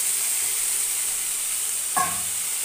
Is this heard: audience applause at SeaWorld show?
no